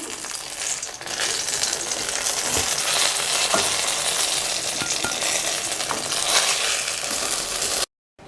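Brinjal sizzles and crackles in hot oil in a pan while a Tamil brinjal gravy is cooked. The frying is loud and continuous, with occasional sharp clicks, then cuts out abruptly near the end.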